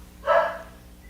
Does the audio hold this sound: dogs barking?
yes